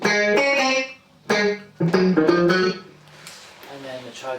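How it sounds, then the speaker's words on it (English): Shiva Audio Lil Wave chorus pedal in classic mode with both sides on, shimmering an electric guitar through several strummed chords and ringing notes at close range, with no talking. "So the classic mode, both sides on, sounds like this."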